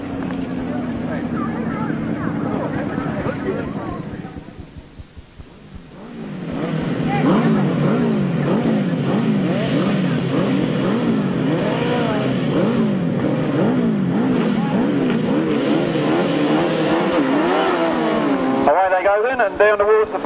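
Grasstrack sidecar motorcycles racing at Stone in Oxney in 1993, engines dipping briefly then surging into a loud sustained multi-engine roar with rising and falling revs as the pack passes, with a commentator's voice over it.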